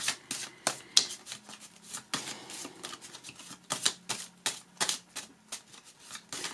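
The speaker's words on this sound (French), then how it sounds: "je vais recouvrir avec l'oracle d'Asma, voir s'il nous donne d'autres informations complémentaires" Oracle cards being shuffled and laid out by hand: close, quiet bursts of crisp riffling and flicking, with soft slaps as cards land, coming in irregular clusters with no talk.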